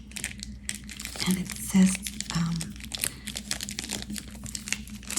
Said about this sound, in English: This one really doesn't want to come out of this little plastic bag.